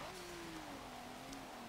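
A 2018 Kia Stinger GT accelerates down a straight in the racing game Forza Motorsport 7, its engine giving a steady droning tone that falls slightly as the gear changes, quiet and continuous.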